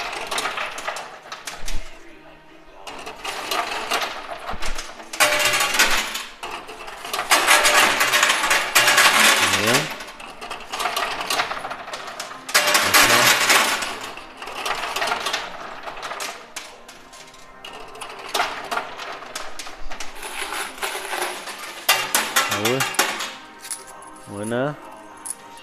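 Coins clatter and cascade repeatedly in a coin pusher arcade machine, bursts of metallic jingling and drops over a noisy arcade background, with voices talking intermittently.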